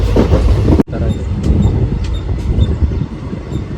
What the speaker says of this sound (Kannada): ನಾವೀಗ ಹಾಸನಿಂದ ಟ್ರೈನ್ ಹತ್ತಿದ್ದೀವಿ